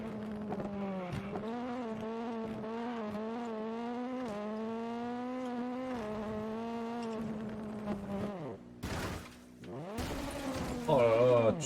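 Rally car engine in WRC 9 droning steadily with a rising and falling pitch as the car is driven, broken near the end by bursts of harsher tire and gravel noise.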